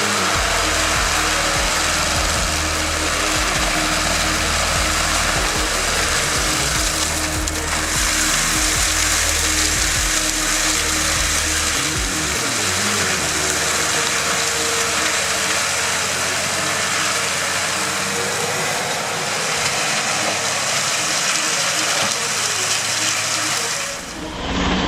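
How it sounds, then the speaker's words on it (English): An excavator-mounted forestry milling head grinding through tree stumps: loud, harsh, continuous grinding and shredding over a heavy engine drone, with the low engine note dropping away partway through and the grinding continuing to the end. "The way this forestry milling head grinds through stumps is nothing short of remarkable."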